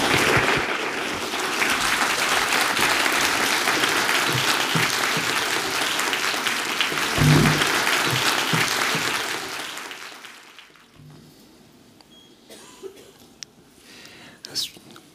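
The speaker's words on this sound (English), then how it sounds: "please join me in welcoming John Powell to the stage with a warm round of" A conference audience at the Othering & Belonging event in Berlin gives a warm, steady round of applause welcoming speaker John Powell to the stage, lasting about ten seconds before fading into quiet room sounds with a few scattered knocks.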